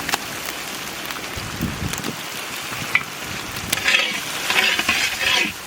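Ground cumin, coriander and dried chili paste frying in hot oil for a Bengali-style katla fish curry, a steady close sizzle with stirring scrapes over it that grows brighter and louder toward the end, no talking.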